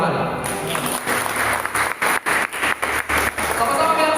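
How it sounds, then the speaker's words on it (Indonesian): Audience applause in a campus church gathering, steady dense clapping from a crowd that fills the room, with a couple of short dips as it carries on, loud and close. "Kasih tepuk tangan buat Tuhan."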